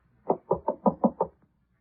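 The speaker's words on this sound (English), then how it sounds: "Go ahead and knock." Six firm, evenly spaced knocks on a door, close and clear in quick succession with no talk over them.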